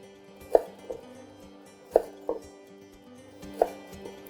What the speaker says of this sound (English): just cut it up into thin strips like so, as thin as you can get it